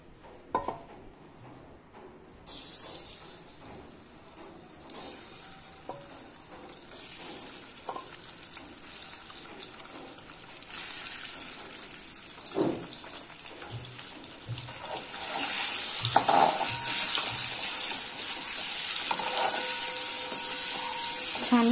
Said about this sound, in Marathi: ही अंडी थोड्याशा तेलामध्ये थोडेसे फ्राय करून घ्यायचे आहेत.